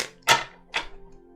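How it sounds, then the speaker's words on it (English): A deck of oracle cards shuffled by hand, two quick, close, crisp riffling bursts about half a second apart, then quiet. "we'll go ahead and give it another quick shuffle here"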